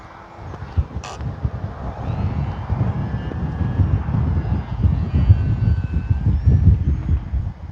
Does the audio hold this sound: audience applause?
no